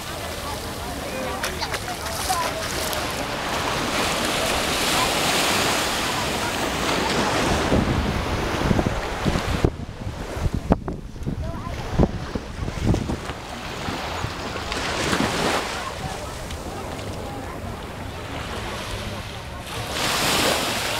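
Surf washes onto a beach at Carlisle Bay, Barbados, a continuous roar of waves mixed with heavy wind buffeting the microphone, with bursts of gusty rumble.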